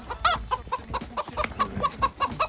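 A rooster clucks in a quick, regular series of short, close, loud calls, about a dozen in a couple of seconds, with no talking.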